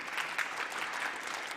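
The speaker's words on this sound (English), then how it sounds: "please give her a round of applause" Steady applause from a conference audience fills the whole moment, a dense even patter of many hands clapping at moderate loudness with no voices over it.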